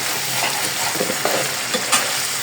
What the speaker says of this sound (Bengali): বাদাম বাটাটা দিয়ে ভালো করে কষাবো, যাতে কাঁচা গন্ধটা একেবারেই না থাকে।